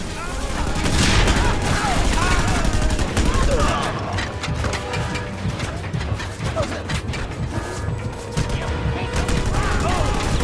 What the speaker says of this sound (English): Getting continuously shot.